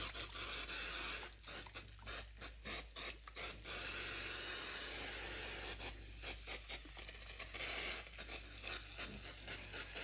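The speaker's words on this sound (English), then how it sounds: "the first thing we're going to do is spray our pie pan" Short hissing spurts from an aerosol can of Baker's Joy baking spray, clogging, onto a pie pan, a rapid series of sprays followed by a longer hiss, close by and soft against a faint background hum.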